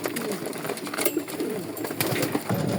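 Racing pigeons coo softly and repeatedly at a loft, with low, close, throaty calls over a light background hum.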